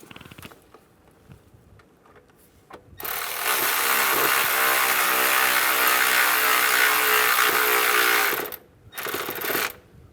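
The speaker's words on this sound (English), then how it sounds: "Get that bolt started and tighten it down" A power tool runs steadily for about five seconds while a bolt is driven into an intake manifold bracket on a 2004-2010 BMW X3, with a brief second burst after a pause and quiet mechanical clicks around it.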